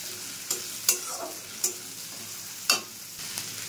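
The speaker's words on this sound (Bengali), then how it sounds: "তো পেঁয়াজটা একটু ভেজে নেব। তারপরে এর ভিতরে দিয়ে দেব আদা রসুন বাটা।" Onions frying in a pan with ginger-garlic paste, for a Bengali prawn bhuna, give a steady soft sizzle broken by several sharp stirring clatters of a spoon against the pan.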